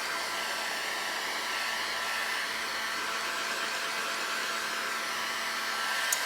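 A heat gun blows steadily on a paint transfer laid over a natural wood furniture surface, a constant loud whooshing hum of fan and airflow holding level throughout without pause.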